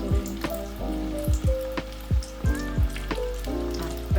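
Jaffna fish cutlets fry in hot, well-boiling oil with a steady close sizzle, broken by a run of sharp pops and spatters at irregular intervals.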